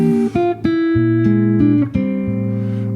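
A jazz guitar chord rings out clean and close, its root quickly swapped for a flatted fifth, followed by a few more plucked chord changes that sustain and overlap.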